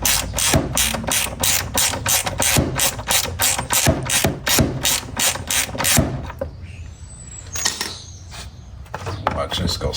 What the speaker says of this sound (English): I'll reach in here with my ratchet and get this popped loose.